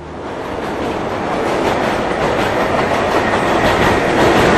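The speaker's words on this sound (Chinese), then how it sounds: "这是美国的地铁站" A subway train at an American subway station roars loudly and steadily, with a dense rumble and clatter of wheels building slightly as it passes close by.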